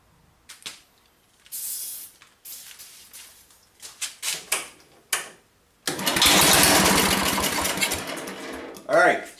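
A 1977 MTD 990 lawn tractor engine, previously a no-start, cranks in short bursts between pauses and knocks, then catches and runs loud and steady near the end.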